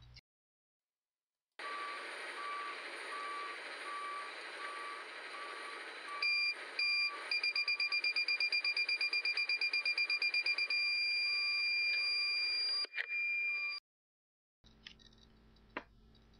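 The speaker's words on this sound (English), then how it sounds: "with an audible tone sounding as you become within 10 feet of the object" A P6000 truck proximity sensor system on a tractor trailer sounds its warning tone: a steady electronic beeping that turns into a rapid, continuous run of pulsed tones. It stops abruptly, then a few faint clicks follow.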